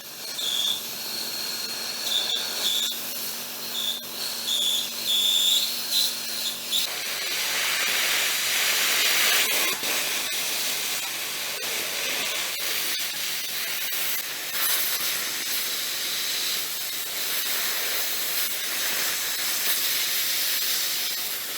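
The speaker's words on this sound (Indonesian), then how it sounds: "saya akan coba untuk potong plat bordes ya dengan tebal 6 mm" A Daesung CUT40 IGBT plasma cutter set to 25 amps slices 6 mm checker plate with a loud, continuous hissing roar, preceded by a high whine and crackle as the arc starts.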